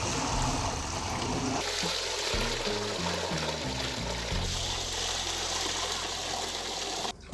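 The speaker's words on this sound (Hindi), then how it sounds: "अब इसमें पानी शामिल करेंगे जिसमें ये डूब जाए।" Water pouring in a strong, steady gush over a large batch of about 200 kg of chicken for steam roast, a continuous close rushing and splashing with shifting low tones as the level rises.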